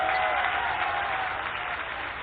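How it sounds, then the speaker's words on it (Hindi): An audience at a BJP political gathering in Madhya Pradesh applauds to welcome Scindia, steady, thick clapping from many hands that holds at an even level throughout without a break. "दोनों हाथों को उठा के ताली बजा के सिंधिया जी का मेरे क्षेत्र में स्वागत है"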